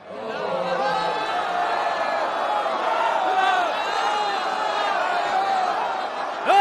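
An agitated crowd of voices shouts and clamours in a biblical film scene before a Roman governor, a dense continuous murmur of many people yelling close by, swelling slightly with a sharper cry at the end.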